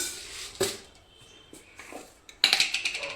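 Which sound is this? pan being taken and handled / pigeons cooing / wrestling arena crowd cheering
pan being taken and handled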